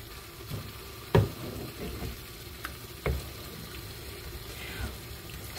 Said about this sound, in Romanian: Iar acum amestec.